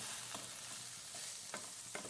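Cauliflower masala thoran being stirred in an aluminium pan, a soft, steady frying hiss with a few faint scraping clicks from the spoon near 0.3, 1.5 and 1.9 seconds.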